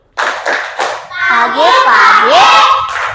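Schoolchildren in an Indonesian classroom chant a 'tepuk semangat' clap routine, several sharp rhythmic claps followed by loud overlapping children's shouting voices close by.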